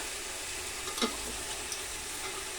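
Carrots and potatoes fry in a pan with a steady hiss and sizzle, a brief stirring scrape around the middle, close and without speech.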